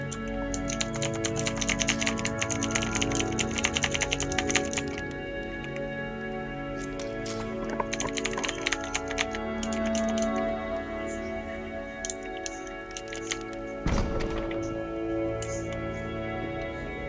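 Typing on a computer keyboard during a video game, with bursts of rapid key clicks separated by pauses over a steady low ambient hum, no voices present.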